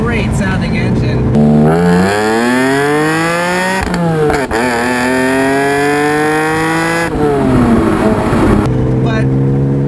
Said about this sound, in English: Just a beautiful, naturally aspirated roar of an engine.